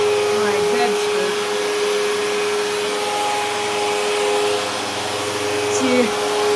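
A vacuum cleaner runs continuously on a rug, its steady motor drone and whine loud and close throughout, with brief shifts in pitch as it moves.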